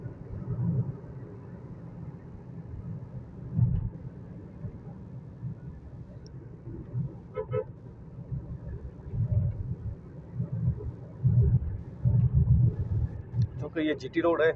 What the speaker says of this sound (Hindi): और इधर हर किस्म की ट्रैफिक होती है।